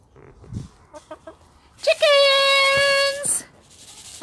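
A close, drawn-out crow-like call imitating a chicken, sung by a voice amid a children's music session, preceded by a few short soft syllables.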